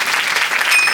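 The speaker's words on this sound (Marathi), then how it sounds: "टाळ्या वाजवा त्यांच्यासाठी." Audience applause at a kirtan gathering, a brief, loud, even burst of many hands clapping together.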